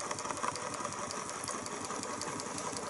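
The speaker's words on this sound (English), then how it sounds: "This Stirling engine is unusual" A small Stirling engine with no mechanical link between crankshaft and displacer runs steadily, giving a faint, fast, even mechanical ticking and whirring over a soft hum, with no talk.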